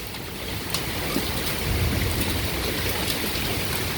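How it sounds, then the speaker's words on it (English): Small hail falls during a severe thunderstorm, a steady, dense rushing patter with occasional sharper ticks as stones strike nearby. "Oh, the hail's coming in here. It's little hail."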